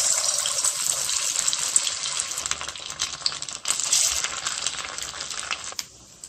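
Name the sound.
rice pakoda fritters frying in hot oil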